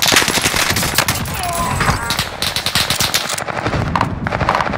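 Gunfire rattles in Call of Duty Warzone, loud rapid machine-gun bursts and overlapping shots in a dense, close fusillade that keeps going throughout.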